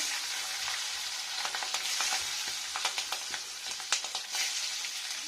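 Chili powder, mustard seeds, green chilies and onion sizzle in hot oil, a bright continuous frying hiss up close with irregular pops and crackles throughout, no voices.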